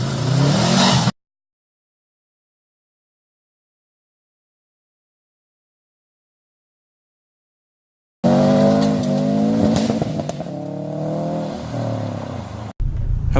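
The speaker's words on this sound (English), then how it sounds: "Oh, I love that turbo sound." A stock 2012 Subaru WRX STI turbo engine roars and revs hard on a rally stage, rising and falling in pitch, cut by a long stretch of silence before the engine returns.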